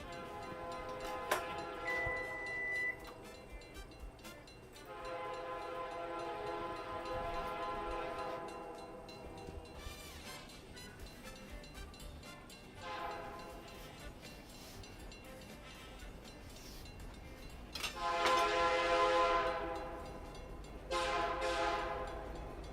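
A train horn blares in long sustained blasts over the rumble of a passing train, with a second burst of horn near the end.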